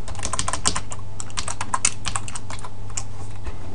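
Rapid typing on a computer keyboard, a dense run of crisp, close key clicks with brief pauses, steady in loudness over a faint background hum, with no voices.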